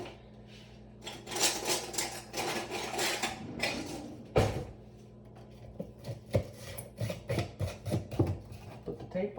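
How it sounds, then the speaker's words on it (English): A lid is fitted onto a container of mushroom substrate with a series of close plastic clacks, rubs and taps, some sharp knocks among softer handling noises. "Put the lid for it."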